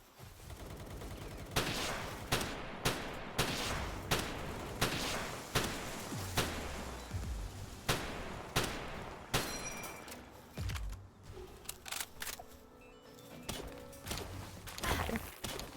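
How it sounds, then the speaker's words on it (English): Repeated bursts of gunfire in the Palworld video game, loud sharp shots arriving in quick, irregular volleys across the whole stretch, with some rapid automatic strings and occasional softer impacts. "I'm getting shot at again, yay."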